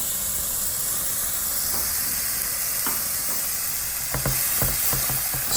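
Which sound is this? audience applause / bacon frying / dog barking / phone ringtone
bacon frying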